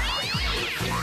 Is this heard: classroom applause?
no